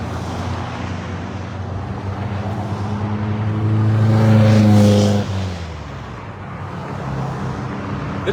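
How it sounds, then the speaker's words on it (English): Trucks, cars and motorcycles pass by on a Saturday morning in the Cochise County Sheriff's Charity Ride. Engine noise builds to a close, loud pass at mid-clip, then drops back to a steady rumble of traffic. "The trucks, the cars, the motorcycles."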